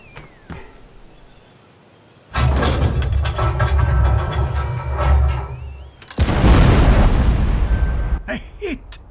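Cannon fire in the VR video game Sniper Elite VR: after a quiet start, a heavy blast erupts into sustained rumbling explosions as a destroyer is hit, followed by a second loud booming wave and debris.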